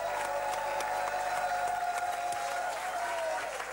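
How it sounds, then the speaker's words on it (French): A French TV studio audience applauds a guest on a variety show, with sustained, even clapping and some crowd noise, while a faint tonal hum sits in the background throughout. "Alors on applaudit doublement Dorothée"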